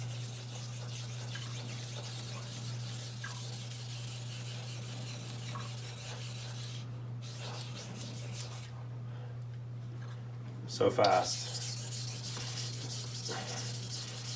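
Long, steady strokes of a knife across a whetstone give a continuous gritty scraping rub at close range, with a brief faint remark partway through.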